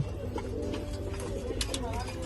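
Racer pigeons from a strong bloodline coo softly and repeatedly in a loft, a steady low murmur heard close, with a few brief brighter chirps.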